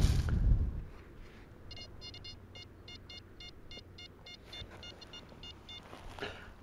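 An XP Deus metal detector gives a repeated high target tone, a series of short stacked beeps with a steady rhythm, heard over faint outdoor background noise in a field.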